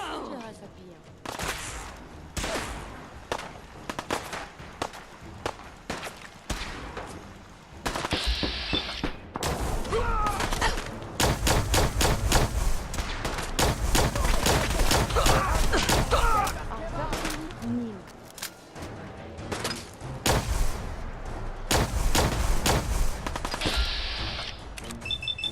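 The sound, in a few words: machine gun fire in Fallout 4 video game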